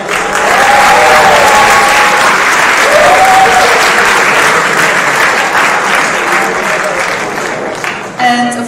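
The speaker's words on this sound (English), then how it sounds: "So, round of applause for you." Audience at a council general assembly breaks into loud, sustained applause, a dense wash of clapping that holds steady for several seconds before tapering off at the end.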